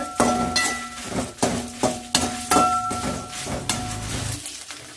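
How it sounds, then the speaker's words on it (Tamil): Curry leaves fry in a pan for a village-style bitter gourd tamarind curry, giving a close sizzle punctuated by repeated clinks and scrapes of a spoon stirring against the pan. "கருவேப்பிலை தழை 2 சேர்த்துக்கிறேங்க. இது நல்லா வறுத்து எடுத்துக்கலாங்க."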